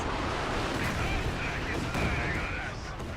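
Artillery barrages in the video game Company of Heroes 2, a dense continuous rumble of booming fire and explosions, loud and steady throughout.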